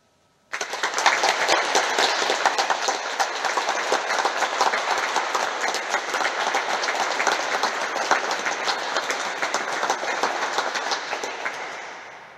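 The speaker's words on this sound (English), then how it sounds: "please join me now in a round of applause for all these groups" Sustained applause fills a university graduation ceremony hall, starting abruptly and continuing as a dense, even roar of many hands clapping for over ten seconds before fading slightly at the end.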